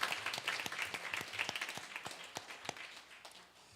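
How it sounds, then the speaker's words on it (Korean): A church congregation claps at a worship service in a short, moderate round of applause, individual claps distinct and fading toward the end. "박수로 감사하겠습니다."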